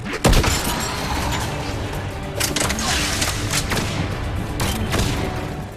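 Powerful gun fired against Geth in Mass Effect 3, booming and loud: a heavy opening shot, then dense sustained combat noise with several sharp bursts scattered throughout.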